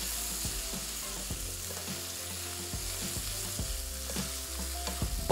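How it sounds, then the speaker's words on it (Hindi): Spice masala and chicken fry in hot oil in a hot kadhai, giving a loud, continuous sizzle broken by repeated stirring scrapes and knocks, with no one speaking. "थोड़ा सा इस मसाले को भूनने के बाद"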